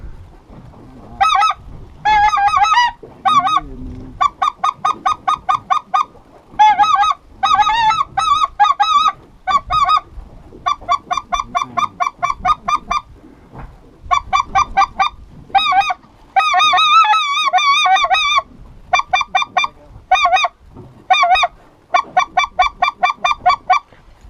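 Speckle-bellied geese honk at a lake, a flock sounding in quick repeated bursts of nasal calls with brief pauses between them, fairly close and clear over quiet background.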